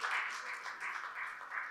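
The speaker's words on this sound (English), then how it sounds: "Please, let's give him a huge round of applause" An audience at a plenary conference session applauds a newly introduced professor, a steady wash of many hands clapping that stays at an even, moderate level throughout, with no voices over it.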